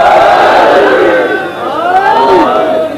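A crowd at a Shia majlis gathering shouts a religious slogan in unison, loud and sustained with rising and falling chanted tones, fading out at the end.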